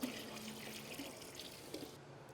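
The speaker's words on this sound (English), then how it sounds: "So you're going to begin by dumping approximately 9 quarts of water" Water pours steadily into a clean bucket, about nine quarts' worth, as a continuous close rushing splash that holds even for a couple of seconds, with no talk.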